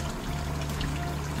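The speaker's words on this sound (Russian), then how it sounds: "И доливаем туда еще воды," Water pours steadily into a cooking pot of plov base with cumin, salt, hot peppers and garlic, a continuous close gushing trickle with no talk.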